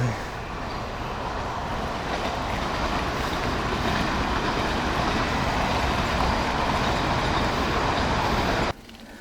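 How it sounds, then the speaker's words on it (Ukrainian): Trains rolling past a rail crossing, a loud, steady broadband roar that holds for about nine seconds before dropping off sharply near the end. "О! поїзди."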